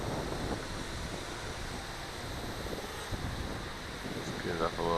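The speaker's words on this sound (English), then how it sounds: "But it's still pretty windy" Strong wind roars and buffets the microphone outdoors while a Blade 200 QX quadcopter flies, a constant low rumble with gusty surges and no break.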